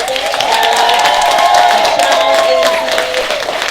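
An audience at a live comedy Q&A gives loud, sustained applause with cheering, many hands clapping together while voices and whoops rise over the steady wash of claps.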